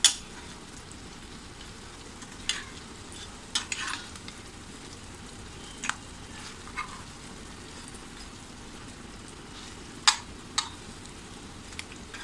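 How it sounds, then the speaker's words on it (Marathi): Raw banana slices fry in a pan with a constant soft sizzle, broken now and then by sharp clinks and light stirring taps from a utensil. "आपली दुसरी बाजूसुद्धा छान अशी भाजून झाली आहे."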